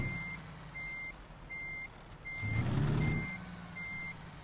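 A truck in American Truck Simulator backs into a depot, its reversing alarm beeping in an even rhythm of six tones over a low engine rumble, with a brief hiss and a rising engine swell midway.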